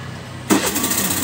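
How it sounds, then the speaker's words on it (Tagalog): A Suzuki Burgman scooter engine fires up with the key, a sudden catch after a brief lead-in, then settles into a steady close idle. "So, i-start ko siya sa susi."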